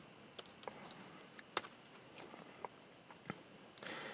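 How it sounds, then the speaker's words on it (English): Faint, sparse clicks of keys pressed on a computer keyboard, irregular and light, in a quiet room. "Go to Google and type in hashtag Team Alliance."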